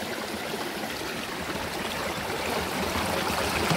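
The Balay River stream flows steadily along a mountain trail on Mt. Namandiraan, a continuous close rushing and gurgling of water with no voices.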